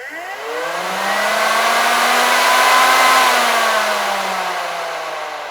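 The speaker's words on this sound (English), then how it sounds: "if we push this button, it's going to turn on this circuit and turn on the fan" A 12-volt, 80-watt electric cooling fan on a drift car's switch panel spins up with a rising whir, holds a loud steady hum, then starts to wind down slightly, alone without talk.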